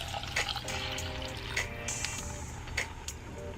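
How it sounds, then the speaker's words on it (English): Water mixed with tomato bouillon pours into a pan of softening vegetables for Mexican rice, a soft continuous liquid trickle and splash with a faint steady hum beneath. "before I put my water with tomato bouillon."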